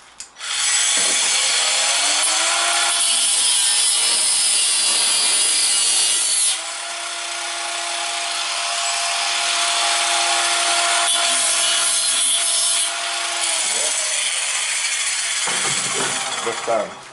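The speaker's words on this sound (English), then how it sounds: "Grinder." A handheld grinder whines loudly and continuously up close as it works on a kayak steering part, holding a high steady tone with a brief change in load midway before winding down.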